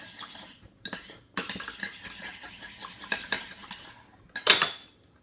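A utensil stirs dish soap mixed with a little salt in a dish, giving sharp metallic clinks and scrapes in irregular bursts with quiet gaps between them.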